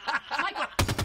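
Gunfire in a Halo 5 custom game: a quick close burst of rapid shots, loud and sharp, cutting in after a brief stretch of other game sound.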